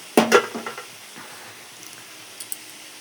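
A spoon or spatula stirring spice paste into rice for fried rice in a metal pan, with a few sharp scraping clatters up front, then soft faint scrapes and a couple of light taps.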